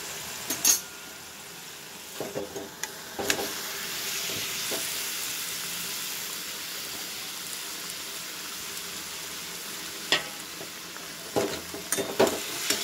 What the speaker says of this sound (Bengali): মশলাটা একটু গন্ধ চলে গেলে ভেজে রাখা সবজিগুলো দিয়ে দেবো।